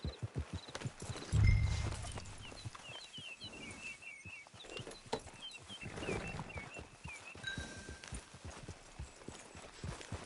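Horse hooves clip-clop at a walking pace in a PS4 video game, a steady rhythmic patter with birdsong chirping in the background and faint voices now and then.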